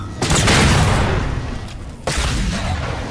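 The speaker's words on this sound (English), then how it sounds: "Nice grenade throw, you missed." A grenade blast in the Halo 4 video game: a loud, harsh burst of explosive noise hits early and lingers, then a second forceful boom lands near the end over continuous game din.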